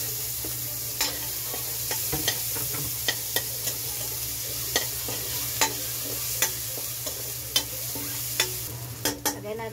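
Garlic frying in a pan while a squid dish is cooked, a steady sizzle with repeated sharp scrapes and taps of a utensil stirring, fairly close.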